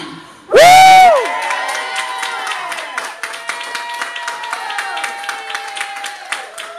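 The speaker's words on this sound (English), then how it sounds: "you're going to clap and cheer like there's 100 of us in here" A small open-mic audience bursts into a loud whoop, then claps and cheers in a rapid, uneven patter that goes on for several seconds.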